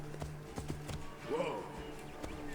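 A horse's hooves clop in a steady rhythm in a video game, at moderate volume, while a voice speaks briefly over the trotting.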